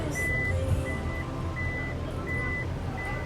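Repeated electronic warning beeps sound at an even rhythm as the power tailgate of a 2026 Toyota RAV4 hybrid closes, with a steady vehicle hum underneath.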